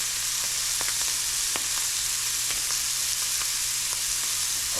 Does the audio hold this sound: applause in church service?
no